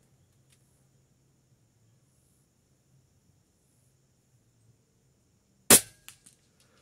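A single sharp, loud shot from a PCP M60 air rifle firing 25-grain slugs at 60 metres cracks out after near silence, followed by a couple of faint echoing ticks.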